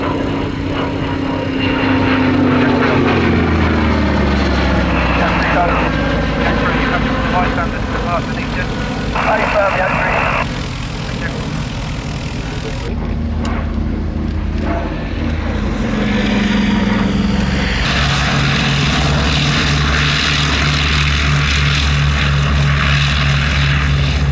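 Propeller aircraft flying at the Shuttleworth air display, a loud sustained engine drone that rises and falls in pitch as it passes, with a commentator speaking throughout.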